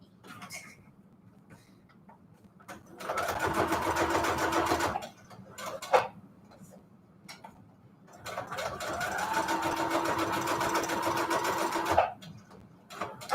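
A sewing machine runs straight-stitch seams in two steady bursts of rapid stitching, each several seconds long, separated by quiet pauses with small clicks and handling sounds.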